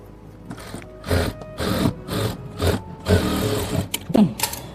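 A sewing machine stitches the back neck of a blouse in short, uneven bursts of rapid clatter, close and moderately loud, with brief gaps between runs.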